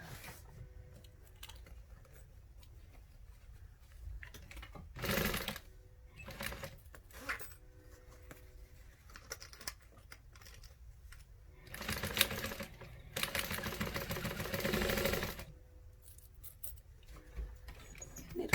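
Sewing machine stitching a zippered fabric bag: bursts of fast mechanical whirring, the longest near the end, separated by quieter pauses and small handling sounds, close up with no talking.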